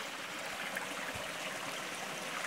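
Steady rushing of water from a cold mountain stream, a soft continuous wash with no voices.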